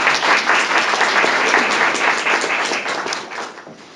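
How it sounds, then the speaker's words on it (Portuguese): An audience applauds a professor at a lecture on curriculum and subjectivity: loud, dense clapping that holds steady for several seconds and then begins to thin out and fade at the end. "Démosle un aplauso a la profesora Evelyn"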